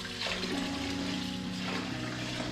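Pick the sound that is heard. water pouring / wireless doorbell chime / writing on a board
water pouring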